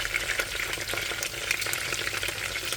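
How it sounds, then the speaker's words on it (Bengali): Chicken fries in a pan with home spices for a spicy roast, giving a steady close sizzle broken by scraping stirs, with no talking. "ভেজে নিচ্ছে।"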